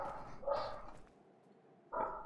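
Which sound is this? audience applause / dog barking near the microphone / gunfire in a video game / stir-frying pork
dog barking near the microphone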